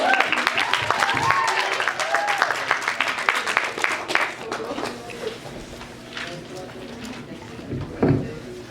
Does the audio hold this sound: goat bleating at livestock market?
no